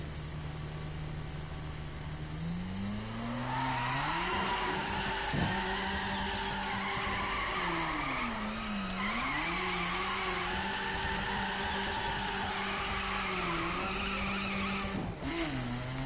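A Subaru BRZ in The Crew video game launches with a long, steady tire skid under a rising engine note, the squeal holding and wavering for many seconds, loud and close, with no talk.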